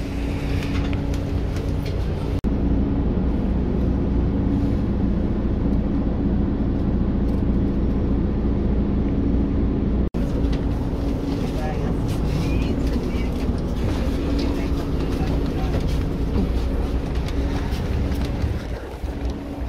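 Inside a three-axle Hochbahn city bus in Hamburg, a steady low engine drone and road rumble fill the cabin, shifting in tone as the bus moves, with someone talking over it.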